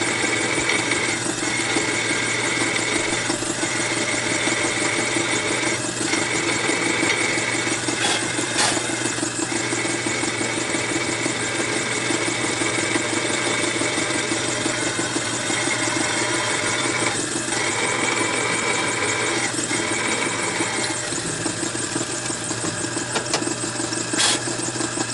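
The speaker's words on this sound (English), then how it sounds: "Drill through a little ways and then take the pressure off, make sure the tips clear the hole that you're drilling." Drill press boring a hole while building a modeling table saw, a steady motor hum with a squealing cutting tone that runs continuously at even loudness, with brief pauses as pressure comes off the bit.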